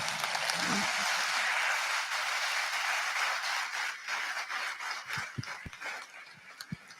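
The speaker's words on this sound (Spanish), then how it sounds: "vamos a agradecerle a Pilar Rahola, un aplauso" Audience applause for Pilar Rahola during an interview event, a dense sustained wash of clapping that holds steady, then thins into scattered individual claps toward the end.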